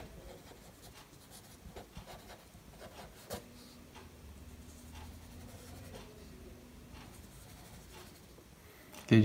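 Writing on paper, heard as a close, quiet scratching and rubbing of a pen in irregular strokes with occasional taps, and a faint steady hum underneath.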